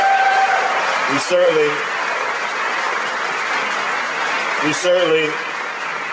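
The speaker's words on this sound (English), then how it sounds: "Let's give him a round of applause." Steady audience applause at a Brooklyn book release event, continuous clapping with a voice briefly speaking over it.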